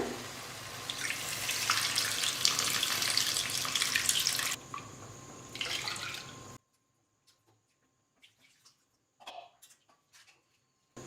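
Soaked tamarind extract splashes steadily into a cooking pot for manathakkali vatha kuzhambu, a wet pouring that lasts several seconds, breaks briefly, then gives way to quiet clinks and small drips.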